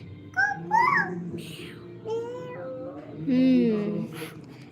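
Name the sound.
child imitating a cat's meow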